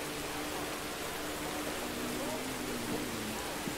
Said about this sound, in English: Ooh, got some rain.